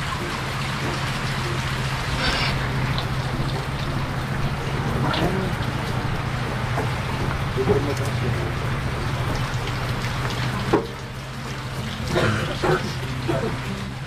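Steady rain patters in a broad hiss throughout, with occasional louder drops and a low hum underneath, while a voice talks intermittently.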